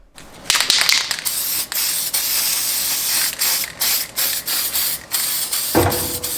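Gasket adhesive sprays from an aerosol can in long hissing bursts separated by short pauses, close by, with a soft clunk near the end and no talking.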